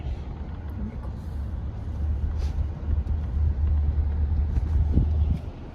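Road traffic while driving into Delhi, a steady low rumble of engines and passing vehicles with occasional brief hisses and thumps, continuous and moderately loud throughout.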